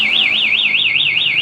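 Loud, continuous warbling siren from an aftermarket one-way alarm on a 2020 Yamaha NMAX scooter, rising and falling in a steady, fast cycle close to the microphone.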